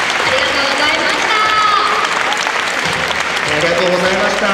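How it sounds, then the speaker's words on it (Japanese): After a players' T-shirt fashion show at a fan appreciation day, an audience breaks into loud, steady applause while voices and cheers carry through it. "大きな拍手をお願いいたします。"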